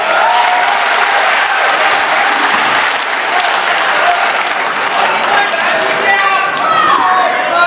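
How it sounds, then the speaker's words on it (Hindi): Sustained, loud applause from a mushaira audience fills the whole stretch, dense and even, with some crowd voices mixed in. "एक मरतबा जोरदार तालियां बजा दीजिए आप।"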